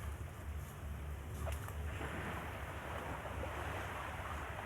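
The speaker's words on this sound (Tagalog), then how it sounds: "Kami po ay nasa tabing dagat ngayon." Surf washing onto the shore at a seaside spot in Amolye, a steady broadband rush of waves mixed with wind buffeting the microphone, continuous and fairly close.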